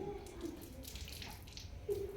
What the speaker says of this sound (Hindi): पानी से हाथों को भिगाएंगे।